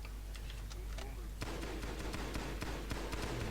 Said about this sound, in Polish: Widzę, że te pojedyncze strzały nie są dobre na nich.